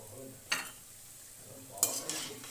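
Crispy red lentil pakoras frying in hot oil give a faint, steady sizzle, with two brief clinks of a utensil against the pan standing out near and clear.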